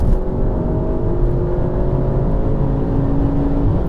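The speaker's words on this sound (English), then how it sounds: "Oh, let's drop a gear. That's 4th gear." A tuned VW Golf R 7.5 with DSG gearbox pulls hard in fourth gear after a downshift, its engine holding a steady droning, rising hum close up inside the cabin, with no talk.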